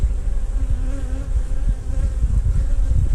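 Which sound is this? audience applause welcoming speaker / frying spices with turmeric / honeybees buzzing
honeybees buzzing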